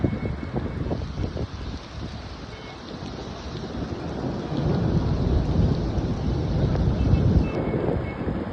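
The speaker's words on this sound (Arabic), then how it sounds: "سامعين الرعد؟" Low rumbling thunder rolls under steady rain and wind buffeting the microphone on the Alexandria Corniche in a winter storm, growing stronger in the second half.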